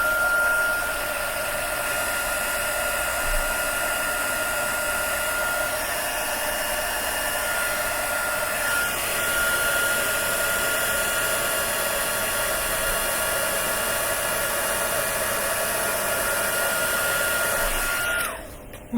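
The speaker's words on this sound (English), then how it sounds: "You don't really have to heat emboss it first, but I'm going to." A heat gun runs continuously for heat embossing in a craft room, giving a steady, loud whirring fan-and-blower hum with a constant tone before it cuts off near the end.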